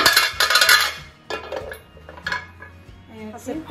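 Sandwich maker trays and dishes clatter and knock together as they are handled after washing, with loud close clinks and bangs early on, then scattered lighter knocks.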